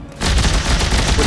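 Rapid machine gun fire erupts in the video game Dead Space 3, a loud dense burst of rattling shots that starts abruptly and continues without a break.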